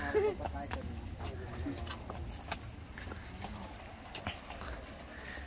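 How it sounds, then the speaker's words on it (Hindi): A horse walks slowly with a woman riding it. Its hooves clip-clop in a soft, steady rhythm in the background while people talk nearby. "ये चल पड़ी भाई हमारी मैडम घोड़े पर बैठ कर।"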